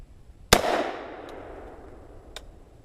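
A single sharp handgun shot from a pistol fitted with a red dot optic cracks close and loud, then rings and fades into outdoor quiet, followed by a faint metallic tick.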